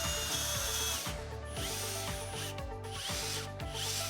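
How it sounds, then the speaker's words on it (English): Power drill boring a hole into a wooden door to fit a hidden contact sensor, a loud whirring motor with rhythmic ratcheting, grinding bursts as the bit cuts and slows, close up. "Now we're going to drill out our slot for the sensor. Drill a hole at each end of your mark."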